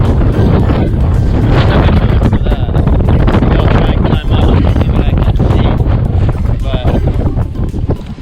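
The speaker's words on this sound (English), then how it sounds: "Really feel the wind right here on the point." Strong wind gusting at a harbor point near a lighthouse in Nice, France, a loud constant roar buffeting the microphone, with a voice speaking over it.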